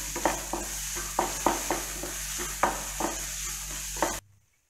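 A pan of chopped ingredients being sautéed for a chapati roll filling, with a steady sizzle under repeated scraping strokes of a spoon, about ten stirs over four seconds, close and clear, then cutting to near silence.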